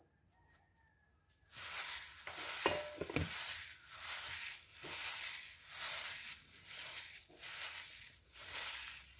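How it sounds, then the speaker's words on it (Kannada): Flattened rice (avalakki) is stirred into thickened sugar syrup for a Deepavali sweet, giving a steady, rhythmic scraping swish that repeats about once a second over a soft background hiss. "ಇದನ್ನು ಸ್ವಲ್ಪ ಸ್ವಲ್ಪವೇ ಹಾಕ್ತಾ ಮಿಕ್ಸ್ ಮಾಡ್ತಾ ಬರುವ"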